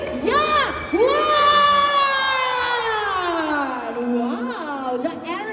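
A live event audience in the Philippines roars with loud cheering and high whooping shouts, a dense, close crowd sound that swells and holds with rising and falling yells.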